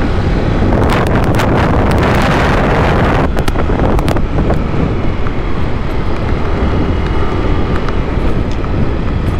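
Strong gusts batter the microphone on the mountain of Mt. Malico in Pangasinan, giving a loud, continuous roar with heavier buffeting bursts in the first half.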